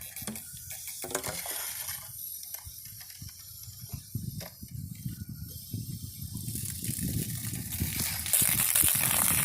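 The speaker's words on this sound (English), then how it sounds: "Make sure we've got water pressure through here, no more air." Steady rushing water flows through a newly installed underground farm water service line, with gurgles and sputters of air and a clicking valve, growing louder toward the end.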